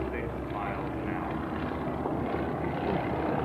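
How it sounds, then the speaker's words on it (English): A Fokker DR-1 triplane's engine drones steadily during an airshow flyby, a continuous rumbling buzz at moderate distance, with talk over it. "Gracefully rolling the airplane in from Airshow left, the top speed of the Fokker DR-1, a sizzling 96 miles an hour."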